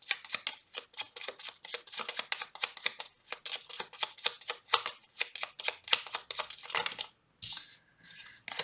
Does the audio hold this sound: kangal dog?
no